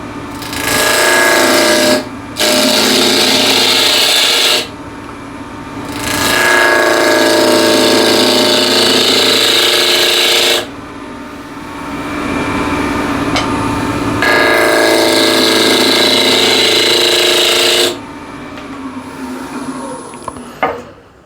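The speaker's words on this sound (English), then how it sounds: "So let's grab a ball gouge." A wood lathe turns a yew box while a ball gouge cuts, giving loud broadband scraping bursts in several long passes separated by short pauses, over a steady motor hum.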